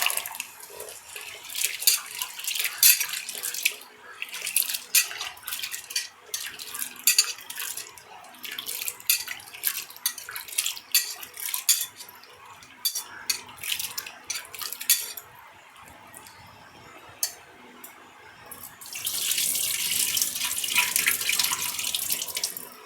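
Tap water runs and splashes over sago and flattened rice being rinsed by hand in a vessel at a kitchen sink, with scraping and clinking in bursts, then a steady stream toward the end.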